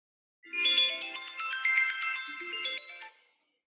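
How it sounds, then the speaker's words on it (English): A bright electronic alarm chirps in rapid repeated pulses for about three seconds, loud and close, then stops abruptly. No talking. "when you hear my timer go off"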